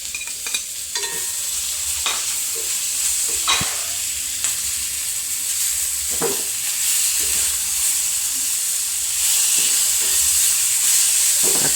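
Tomatoes frying in a pan of tempered mustard seeds for a fish curry, giving a steady loud sizzle with occasional stirring scrapes and clinks, and no voices.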